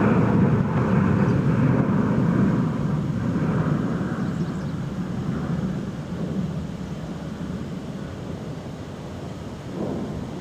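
An American Airlines Airbus A321 in America West heritage livery, bound for Tucson, roars steadily at DFW Airport, a broad low rumble that slowly eases over the clip, with no voices.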